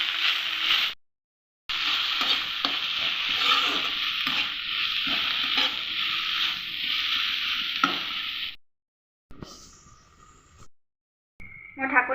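Ingredients seasoned with salt and turmeric fry in a pan with a bright crackling sizzle and scraping stirs, broken by short cuts to silence and a quieter stretch near the end.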